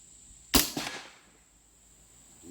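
An air rifle firing a JSB Hades 44 grain pellet into play-doh: one sharp, loud crack followed by a short second impact thump and a brief decay, with no talking around it.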